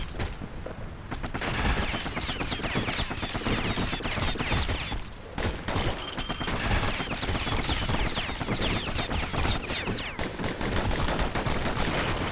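Enemy gunfire in the action game Bastion rattles in dense, continuous bursts of rapid shots, loud and close, with a brief lull partway through before the volley resumes.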